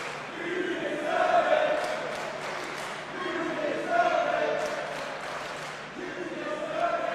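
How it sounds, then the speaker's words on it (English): Wrestling crowd at a pro wrestling event chanting in unison, a broad rhythmic swell of many voices rising and falling, continuous and moderately loud throughout. "Crowd are chanting, you deserve it."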